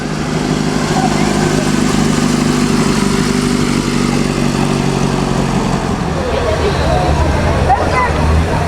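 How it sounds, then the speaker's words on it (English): Vintage four-cylinder Ferrari engines at the 2007 Mille Miglia in Italy, rumbling steadily near the Duomo amid crowd babble, with a louder engine surge and revving toward the end. "Four-cylinder Ferraris."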